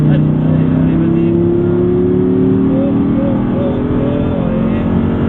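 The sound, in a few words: Audi R8 V10 accelerating on race circuit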